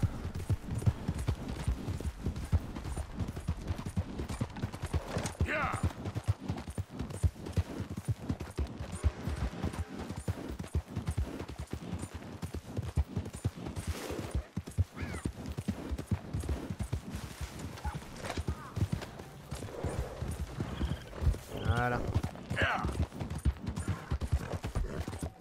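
Steady, rapid clip-clop of galloping horse hooves in the video game Red Dead Redemption 2 runs throughout, close and continuous, with occasional faint whinnies and a brief voice.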